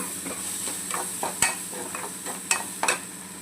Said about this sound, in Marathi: आता आपण यात हळद घालून घेऊया। व्यवस्थित असं हलवून घेऊ।